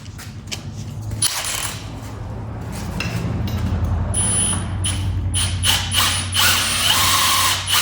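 A hand ratchet clicks rapidly in bursts while tightening a strut bolt on a Mercedes C300 during front strut replacement, close and crisp with short pauses between strokes.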